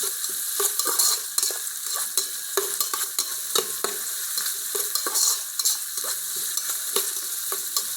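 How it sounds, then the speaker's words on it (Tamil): Onions and fennel seeds sizzle in oil inside an electric cooker while a spoon stirs them in quick, regular scraping strokes, close and continuous, with no one speaking. "இந்த சோம்பு போட்டிருக்கேன். வெங்காயம் இதில் போட்டு நல்லா வதக்கிடலாம்."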